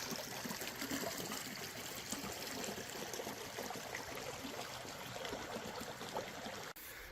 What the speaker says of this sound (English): Here's the runoff from one of the runoff creeks from Icebox Canyon